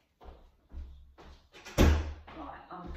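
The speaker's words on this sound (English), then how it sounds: "I've got to shut the door." A door pushed shut indoors in a home, one sharp thud standing out against low rumbling movement and nearby shuffling.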